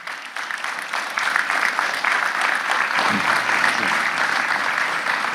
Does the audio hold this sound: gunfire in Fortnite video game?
no